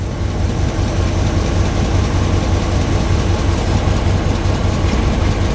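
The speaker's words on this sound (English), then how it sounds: "there's no muffler on this thing, and it runs really good" A 1955 Plymouth Plaza station wagon engine running with no muffler, a loud, constant, rumbling roar held steady throughout, close up with no voices.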